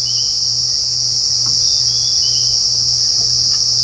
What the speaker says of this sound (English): You get a variety of different kinds of cicadas.